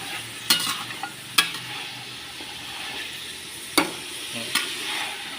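Pork bones are stir-fried in a pan for a bamboo shoot soup, with a low steady sizzle under occasional sharp clacks and scrapes of the spatula, four or five distinct strokes spread across the span, near and without talk.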